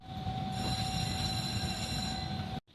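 A tram in Fukui City, Japan, rolls past with a steady, close rumble and a thin high whine from the wheels. The sound stops abruptly just before the end, and no one speaks.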